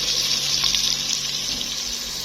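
Water poured into a pot of simmering potato curry in a home kitchen, a steady close splashing gush that runs unbroken for the whole stretch with no voices.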